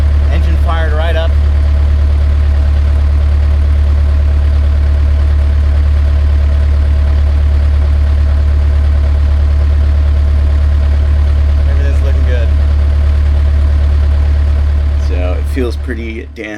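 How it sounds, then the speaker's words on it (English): A rebuilt boat engine idles steadily at close range, a deep continuous low rumble that holds its level throughout, with brief bursts of talk near the start, around twelve seconds and again at the end. "Engine fired right up."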